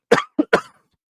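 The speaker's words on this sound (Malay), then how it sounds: "saya terbatuk-batuk sikit" Three quick, sharp coughs in a row from one person, close and loud, followed by silence.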